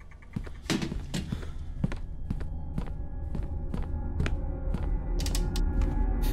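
A wooden chair being moved in a VR game creaks and knocks, giving a run of sharp, evenly spaced clunks and creaks over a low mechanical hum, with no talking.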